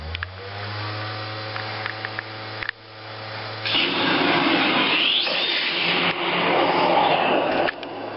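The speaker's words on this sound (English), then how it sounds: "what you're hearing right now is the fan speeds" An Xbox 360 60GB console's cooling fan whirs steadily while a Mercenaries 2 game loads, a continuous broadband whoosh with low hum that grows louder partway through and stays sustained.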